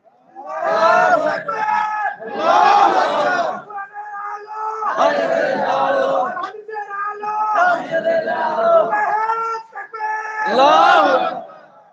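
A crowd at a religious gathering in Bamanjal chants takbir loudly and in unison: five or six strong chanted phrases with short pauses between them, like call and response.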